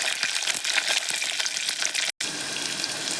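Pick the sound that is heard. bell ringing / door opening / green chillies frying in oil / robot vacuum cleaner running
green chillies frying in oil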